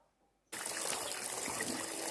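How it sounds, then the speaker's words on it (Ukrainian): Dried fish, salted taranka, being rinsed under running water, a steady loud splashing stream that starts abruptly after a brief quiet moment and continues without pause. "Треба сильно хорошо промити рибку."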